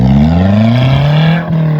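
A car engine revs hard and steadily while the vehicle is stuck in snow in Manali, its rising drone holding close and loud with a brief dip near the end.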